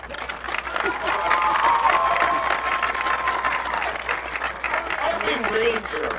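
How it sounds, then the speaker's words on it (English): A crowd in the stands at a high school football game applauds steadily for a veteran being honoured, dense continuous clapping with some voices and cheers mixed in. "Let's applaud that."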